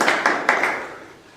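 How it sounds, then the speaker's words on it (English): Applause from an assembly audience: a few sharp, fairly close claps, then a dense patter that fades away within a second or so. "Please, a round of applause again."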